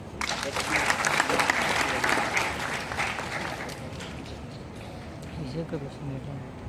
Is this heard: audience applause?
yes